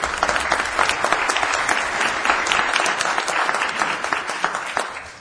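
A room at a county Board of Supervisors meeting breaks into applause for honored employees, a dense, fairly loud crowd clapping that carries steadily throughout with no speech on top.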